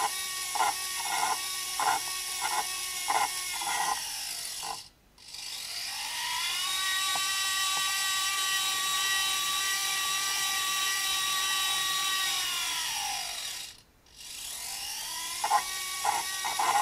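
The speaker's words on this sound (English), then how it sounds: "there's definitely some scraping going on because of that screw" A steady mechanical whir with a thin high scraping edge where the device rubs against a screw, starting and stopping a few times, close up and fairly loud, no voices.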